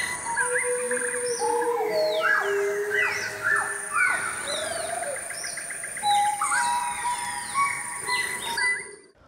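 Colombian wild birds singing in a dense, continuous chorus of overlapping chirps, whistles and trills, close and fairly loud throughout, with no talk.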